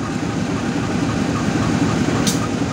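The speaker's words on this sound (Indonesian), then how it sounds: "Kereta api Rajabasa yang saya naiki sepertinya masih menunggu bersilang dengan KA Babaranjang ya." KA Rajabasa passenger train, heard as a steady loud rumble and rattle from on board with a dense, continuous low roar and a faint high hiss near the end.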